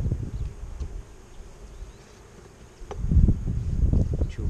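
Honeybees hum around an opened hive during spring apiary work, a soft close buzz with light handling rustles that swells louder in the second half.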